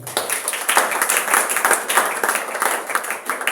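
A church congregation at a Sunday worship service gives dense, close applause: many hands clapping steadily and loudly for a few seconds, with no talk over it.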